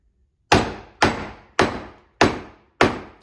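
A mallet drives a chisel to cut a rebate in wood with five sharp, evenly spaced knocks, close and crisp, each ringing out quickly before the next one lands.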